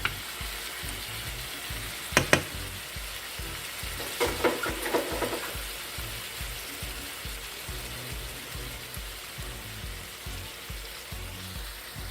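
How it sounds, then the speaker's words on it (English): Lamb for a Jamaican-style brown stew sears in a pot on the stove top over medium heat, giving a steady, even sizzle with a few brief crackles and clinks partway through. "I'm gonna let this sear on the stove top for about 20 minutes on medium heat"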